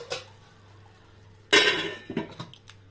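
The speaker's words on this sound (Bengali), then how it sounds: "আমরা এবার এই ঢাকনাটা তুলে দেখলাম" A metal lid lifted off a pot of simmering prawn and potato curry gives a sharp clatter with a brief clink, followed by a few softer knocks and scrapes against a low steady kitchen hum.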